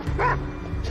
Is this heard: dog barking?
yes